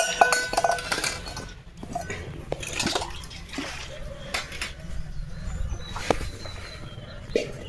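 Dishes, pots and utensils clink and clatter while being washed in a household setting, with repeated sharp metallic knocks and splashes of water scattered throughout, plus faint voices in the background.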